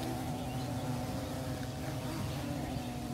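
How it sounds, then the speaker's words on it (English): A fuzzy yellow insect, likely a bee, buzzes steadily and close by outdoors, a continuous low drone with no break, under faint background ambience. "They have a nice fuzzy yellow body. And they're a pretty cute insect."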